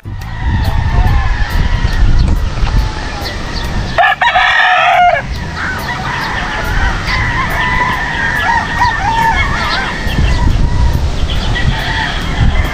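Gamefarm chickens cluck outdoors on a farm, loud and close, with a rooster crowing clearly partway through over a steady rural background.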